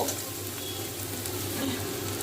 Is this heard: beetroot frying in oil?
yes